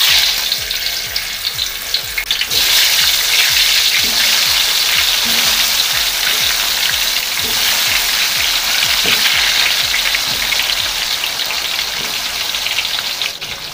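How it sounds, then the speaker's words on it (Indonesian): Cassava pieces fry in hot oil over medium heat, a loud, continuous crackling sizzle that swells after the first couple of seconds and then holds steady, with no talk. "Karena ini minyaknya udah panas, kita masukin aja ya si singkongnya."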